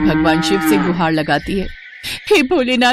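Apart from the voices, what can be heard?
cow mooing loudly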